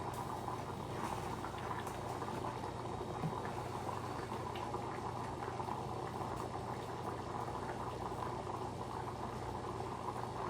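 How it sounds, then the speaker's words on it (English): Water boils steadily at a rolling bubble in a pot on a stove burner, a continuous dense burble and hiss that stays even throughout, close by, with no talking. "It was like genuinely boiling."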